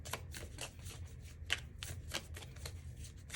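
Tarot cards being shuffled and drawn, a run of quick papery riffling bursts in an uneven rhythm, close and fairly quiet, with no talking.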